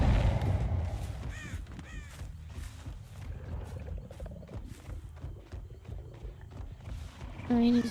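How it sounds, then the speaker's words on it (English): Crow cawing in the video game Dead by Daylight, harsh repeated caws scattered across the scene amid game ambience and footsteps, with a person talking over it. "I saw the bird fly over here."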